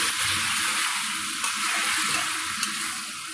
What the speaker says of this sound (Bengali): এবার যে আমটা আমার সিদ্ধ করা ছিল, এই আমের জলটা আমি এর মধ্যে দিয়ে দেবো।